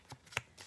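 Thick 120-pound watercolor paper flexed and handled, giving three crisp rustling bursts, the loudest in the middle, close and fairly quiet.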